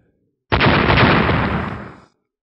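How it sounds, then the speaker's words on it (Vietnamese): A single loud, roaring blast that starts abruptly and rumbles on for about a second and a half before cutting off, dense and close. "Những tiếng nổ kịch liệt không ngừng vang lên"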